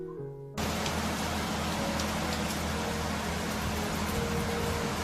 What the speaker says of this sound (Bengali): দেখি তুমুল বৃষ্টি শুরু হয়ে গেছে